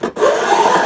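A metal file rasps steadily across guitar fret ends to bevel their sides, one continuous close scraping stroke after a brief pause.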